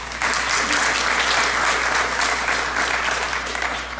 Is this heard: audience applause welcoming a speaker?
yes